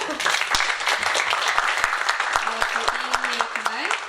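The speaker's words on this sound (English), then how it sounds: "Maybe one applause for her." A lecture audience at a contemporary art museum applauds after a talk, with crisp, close hand claps over a diffuse wash of clapping, and someone speaks briefly near the end.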